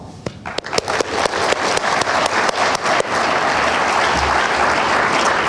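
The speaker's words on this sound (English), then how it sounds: "please stand up because we'd like to give you a round of applause" Graduation ceremony audience gives sponsors a round of applause, beginning with scattered individual claps that quickly build into steady, dense clapping filling the room.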